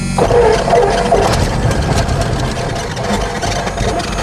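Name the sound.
airplane engine being started with the key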